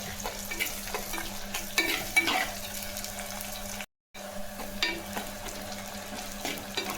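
Small onions and crushed garlic sautéing in oil for tiffin sambar: a steady close sizzle with stirring scrapes, cut by a brief silent gap midway, no talking.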